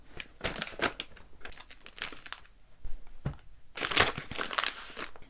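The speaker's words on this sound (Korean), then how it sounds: "오늘은 온라인으로 구매한 것들 뜯어볼게요" Packaging from online-purchased items, including random-box character merchandise, is torn open and crinkled up close, with bursts of crackling plastic and paper rustling between brief pauses and no voices.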